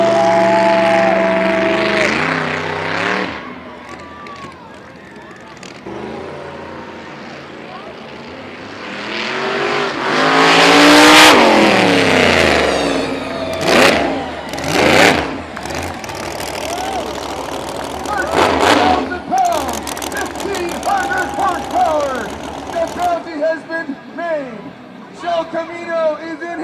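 Monster truck engines rev and roar loudly at a fairground motorsport show, with surging bursts and rising whines while an announcer talks excitedly over the crowd.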